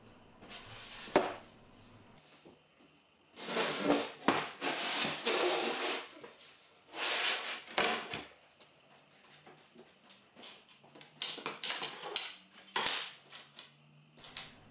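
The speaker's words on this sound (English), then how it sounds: "then you tighten the screws on the front side of the board to secure it in place" Metal screws are tightened and handled on an X-Carve CNC machine's rails during assembly, giving scattered clinks, scrapes and clattering tool contact in several bursts separated by near-quiet pauses, with no talking.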